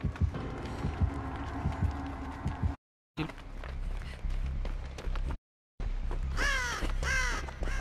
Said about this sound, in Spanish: Ay, cállate, pinche pájaro culero.